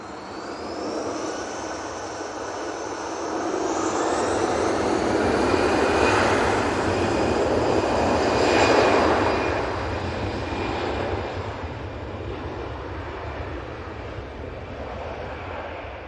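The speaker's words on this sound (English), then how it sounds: "When British Airways has just arrived." A British Airways airliner arriving at Manchester Airport passes with a rising then fading jet roar and whining engine tones, peaking mid-clip over a low wind-buffeted rumble.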